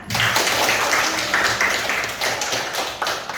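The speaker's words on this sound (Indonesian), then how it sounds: "aplaus dulu buat Imran" A classroom audience claps steadily for a student who has just finished speaking during a lesson, a dense burst of many hands close by lasting the whole moment without talk.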